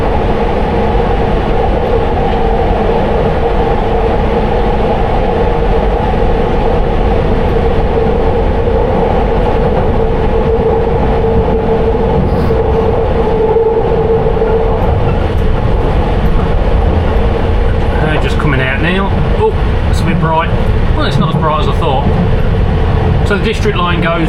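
A London Underground Piccadilly Line train runs steadily toward Barons Court, its continuous rumble and motor hum carrying on under a voice heard from the rear cab, with faint rattles and squeals building toward the end.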